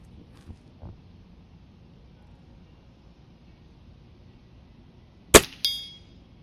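A bullet striking a large steel target at 50 yards gives a sharp, bright metallic ping with a short ringing tail, followed moments later by a second fainter clang, against a quiet outdoor range.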